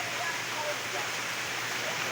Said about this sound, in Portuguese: E a chuva não para não, o ritmo é o mesmo, viu?